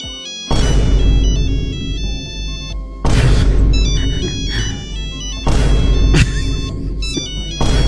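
A phone ringtone plays loudly as a bright electronic melody of repeating tones in bursts, with no one talking over it.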